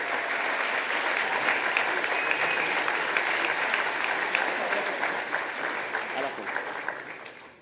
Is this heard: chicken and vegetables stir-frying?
no